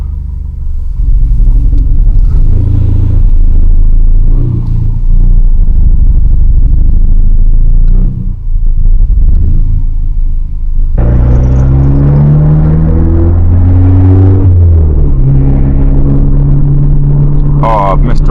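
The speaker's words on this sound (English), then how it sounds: "So now I'm going to take it for" An Audi A3 8P just repaired with a new throttle body is driven on the road, its engine rumbling loud and close throughout, climbing in pitch as it accelerates in the second half.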